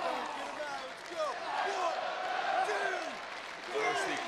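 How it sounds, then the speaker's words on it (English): Arena crowd at a WWE NXT wrestling match in London, Christian versus Wade Barrett, gives a steady, full roar that swells and dips slightly throughout, with voices talking over it. "There's the crowd here in London"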